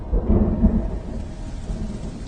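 A thunderstorm from the 2018 film Tumbbad: a loud, deep rumble of thunder rolls over steady heavy rain, then eases into a softer wash of rainfall, with no voices.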